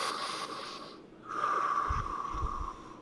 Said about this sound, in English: we do deep inhales and deep exhales